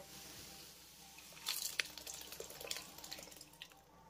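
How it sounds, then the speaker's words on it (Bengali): Boiled masoor dal pours into soybean masala in a pan with soft wet squelches and splatters, faint and close, with no one speaking. "আর এবার আমি এর ভিতরে অ্যাড করব সেদ্ধ করে নেওয়া মসুর ডালটা"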